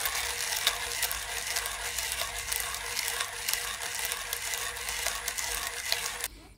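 A premium manual hand coffee grinder crushing beans, giving a steady, dense, gritty rasp with a faint ratcheting texture that runs for several seconds before stopping abruptly.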